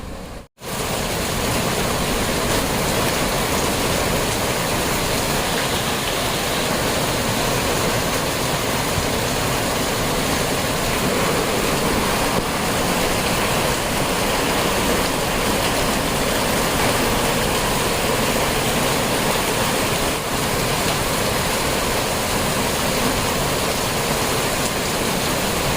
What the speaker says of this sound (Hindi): बाहर एकदम अंधेरा हो रहा है और बहुत तेज़ बारिश हो रही है।